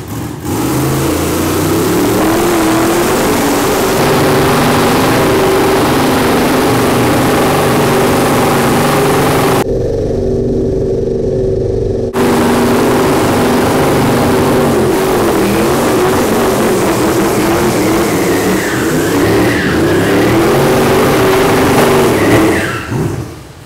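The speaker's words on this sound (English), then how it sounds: "You want to do a burnout?" A 1000hp LS-powered T-Bucket hot rod roars through a burnout, loud and sustained engine noise with revving swells and a brief dip midway before climbing back to full intensity.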